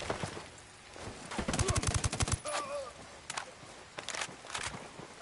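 Rapid bursts of gunfire and blasts in the video game Ghost Recon crackle in quick rattling volleys, mixed with a voice talking over the action.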